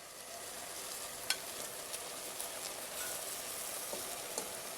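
Onion and pomegranate going into a frying pan for a Georgian liver stew, giving a steady, close sizzle of frying with a few small pops and stirring clicks, and no voices.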